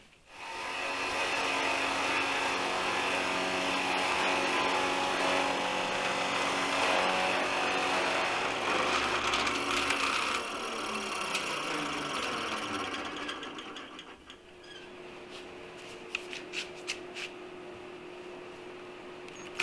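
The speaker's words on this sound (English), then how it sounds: "And I will drill these on the drill press." Drill press boring into wood with a Forstner bit, a steady loud whirring motor with cutting noise that runs for several seconds, then winds down into softer clicks and handling sounds.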